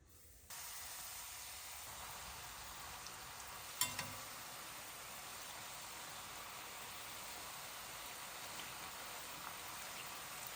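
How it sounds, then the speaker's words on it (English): Steady crackling sizzle of rolled-out papdi dough frying in hot oil, starting abruptly and continuing evenly, with a brief clatter early on. "I'm going to get it frying off straight away"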